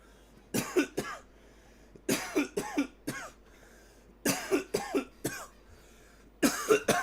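Someone coughs in four close bursts, each a rough cluster of three or four hacking coughs with quiet gaps between, near and fairly loud.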